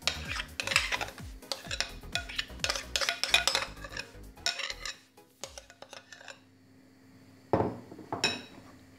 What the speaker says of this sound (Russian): Хорошо перемешиваем.